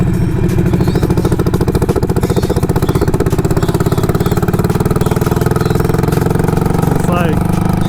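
A Harley-Davidson Sportster engine runs with a steady, rapid lumpy pulse and a brief rise in revs near the end, loud and close throughout.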